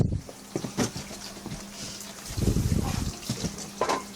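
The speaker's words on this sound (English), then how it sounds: "I just gotta feel real quick to make sure it's hot water" Hot water running from a tap in a home, an uneven splashing trickle with bursts of gushing, close by and fairly quiet, with faint background noise.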